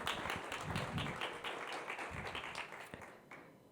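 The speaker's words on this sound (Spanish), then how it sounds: "Por favor, demos un aplauso" Audience applause at a medical microbiology symposium welcome, a moderate wash of clapping that slowly fades over a few seconds, with no talking.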